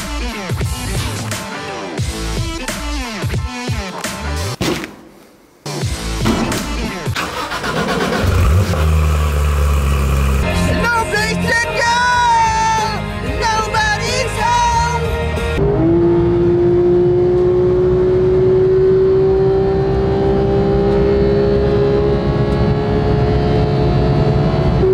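A car engine starts and revs, then the car pulls away with a loud, rising engine drone that climbs in pitch as it accelerates. No one speaks.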